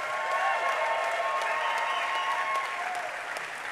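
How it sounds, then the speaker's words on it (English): Concert audience applauding on stage at a music event, a sustained, even roar of many hands clapping with a faint cheer, sounding somewhat distant and easing slightly toward the end. "Big round of applause for Mr. Mitch Glickman."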